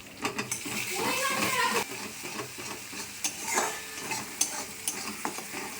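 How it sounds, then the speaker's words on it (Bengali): Spice paste with turmeric and Kashmiri chili powder is stir-fried in a pan for a vegetarian brinjal dish, giving a steady sizzle broken by repeated scraping and stirring strokes, close and moderately loud, with a voice speaking faintly now and then. "ভালো করে মশলাটা কষিয়ে নিতে হবে।"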